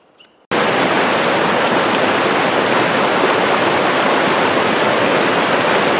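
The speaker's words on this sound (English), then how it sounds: "Is it obvious that I like waterfalls?" After a brief quiet moment, a loud, constant roar of a waterfall on Marble Creek Trail rushes in and continues steadily, close and overwhelming.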